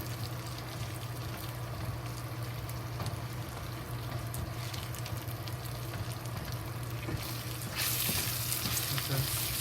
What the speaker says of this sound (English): Slowly stir fry.